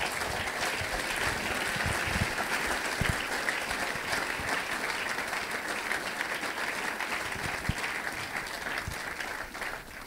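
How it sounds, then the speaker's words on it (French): A church congregation applauds to welcome a pastor as he steps forward, a steady wash of many hands clapping that holds evenly loud for the whole stretch without a break. "Alors qu'il s'avance, nous allons l'accueillir par nos acclamations"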